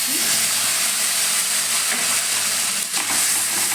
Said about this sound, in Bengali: এবার আমি পেস্ট করা মশলাটা দিয়ে দিচ্ছি